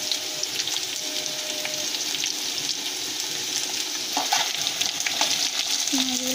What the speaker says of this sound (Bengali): পেঁয়াজগুলোকে ভালো করে ভেজে নেবো এখানে।